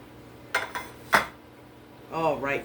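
Spoon clinks and scrapes sound while crockpot candy is scooped into a lined muffin tin, giving a few sharp, close taps, with a brief vocal sound at the end.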